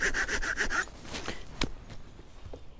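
A small folding saw rasps through dry wood in quick back-and-forth strokes, then stops, leaving a few scattered knocks and rustles.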